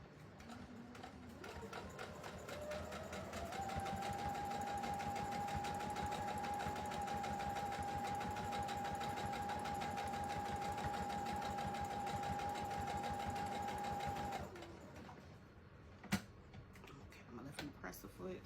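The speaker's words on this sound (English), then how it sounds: "I'm gonna sew real close to the edge as much as I can." A sewing machine runs steadily for about twelve seconds, stitching close to the edge of a large smiley face pillow, its motor whine rising then holding, and it stops to a few soft handling clicks.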